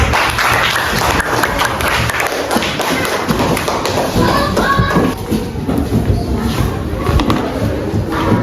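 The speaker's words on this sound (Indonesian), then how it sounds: "kita tepuk tangan untuk kita semua" Students in a classroom clap together in a dense, steady patter of many hands. It continues for several seconds, close and fairly loud, mixed with some voices.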